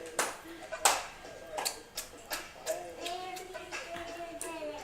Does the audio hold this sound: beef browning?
no